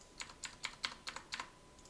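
Someone types on a Razer computer keyboard in a quiet room: a brisk run of about seven sharp, close keystrokes at an uneven pace, with no talking.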